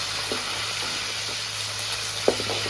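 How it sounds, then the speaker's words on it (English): Fish fry in a pan over an open yard fire, Jamaican yard-man style cooking, a steady broad sizzle throughout with a couple of faint clinks of utensils. "Fish are frying up here."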